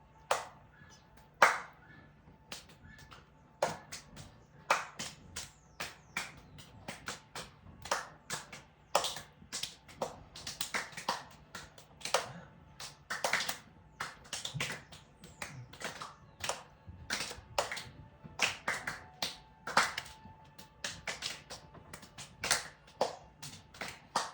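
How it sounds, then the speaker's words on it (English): Hands clapping repeatedly during a qigong exercise, a long run of sharp, close claps in an irregular rhythm with scattered quieter taps between them. "and clap."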